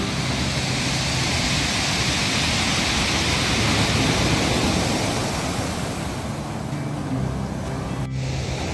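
Ocean waves surge and wash in a continuous, broad roar of moving water, steady and fairly loud, with a gentle swell in the middle and no voices.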